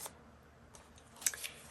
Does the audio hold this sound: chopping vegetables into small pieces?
no